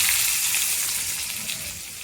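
Chopped onion frying in hot oil with mustard seeds, cumin and garlic, a steady close sizzle and crackle that holds evenly and eases slightly toward the end, with no talking.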